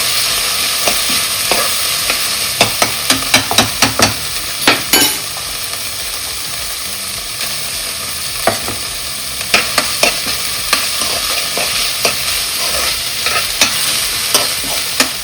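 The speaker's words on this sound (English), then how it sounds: "And let it saute for a bit." Chopped onions sauté in a hot pan with a loud, continuous sizzle. A spatula repeatedly clacks and scrapes against the metal in quick bursts.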